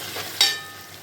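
Chopped tomatoes added to sautéed onions in a pan for a pigeon pea curry, giving a sudden sizzle burst that swells then settles into a steady, close frying hiss, with no talking.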